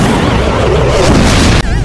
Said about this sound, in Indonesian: Mereka berhasil menolong Rockway tepat sebelum mobilnya meledak